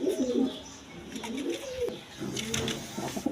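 Low, bubbling coos from a pair of crested ghiya-shulli pigeons with two chicks come in repeated rolling phrases, near and fairly soft, with no talking.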